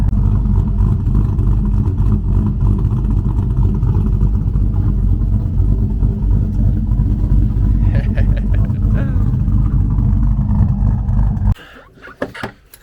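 A loud, steady Chevrolet Silverado pickup engine rumbles continuously at close range after a tune-up with a spark plug replaced, then cuts off abruptly near the end, followed by a few faint clicks and knocks.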